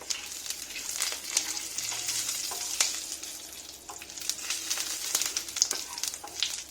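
Mustard seeds, jeera and curry leaves spluttering in hot oil, producing a close, busy sizzle scattered with sharp crackling pops throughout, with no voice over it.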